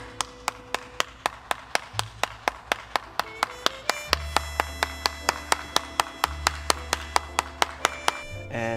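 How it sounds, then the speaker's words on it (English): Steady rhythmic clapping, like a single person or small group keeping a regular beat, plays alone over sustained musical tones for about nine seconds, fairly close and moderately loud. "Can we cut to applause?"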